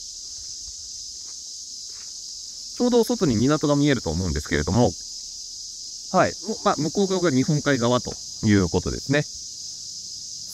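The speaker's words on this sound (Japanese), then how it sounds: "セミの鳴き声がすごいですね。" Cicadas drone in a loud, constant high buzz outside a seaside hotel in Iwanai, Hokkaido, holding steady throughout while someone talks over it in bursts.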